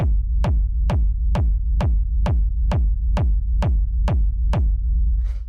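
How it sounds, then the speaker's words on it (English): A rumble kick drum sample in a 132 BPM techno loop thumps about every half second, each hit a sharp attack over a continuous deep rumbling low-end tail, loud and steady with no voices. "So what we have going on here is a rumble kick."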